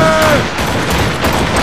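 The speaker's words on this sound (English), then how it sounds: "They're firing a ball!" Ship cannon fire in a naval battle in Assassin's Creed Rogue, a loud continuous barrage of blasts and booms that fills the clip, with shouted crew voices mixed in.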